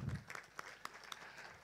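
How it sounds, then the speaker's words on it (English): An audience at a graduation ceremony claps for chief guests, a brief scattered patter of hands with a few sharper individual claps standing out. "and we clap for them."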